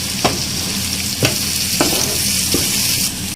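Ground cumin and garam masala get mixed in a frying pan for street-style kata kat, with a continuous loud sizzle broken by a few distinct scraping strokes of a spoon against the pan.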